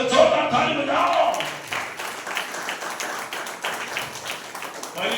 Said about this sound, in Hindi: प्रभु को जोरदार ताली बजाओ